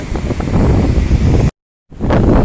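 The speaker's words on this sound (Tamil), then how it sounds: "இப்போ பாருங்கள் எவ்வளோ காற்று வேகமாக இருக்குது" A strong cyclone wind blasts across the coast near Pondicherry, a loud continuous roar buffeting the microphone, cut by a brief dropout to silence before the gusting rush resumes.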